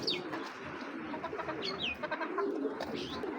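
Racing pigeons coo softly and repeatedly nearby, their low throaty calls overlapping with a few faint chirps in the background.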